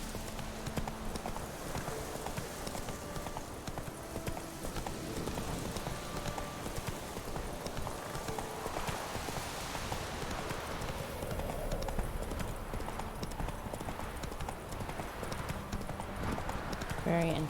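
A horse's hooves galloping in the video game The Witcher 3, with steady, rapid clip-clop beats throughout under ambient game sound and occasional voices talking.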